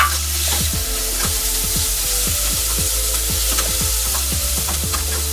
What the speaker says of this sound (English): Now we'll add in our garlic. Mix it all in there.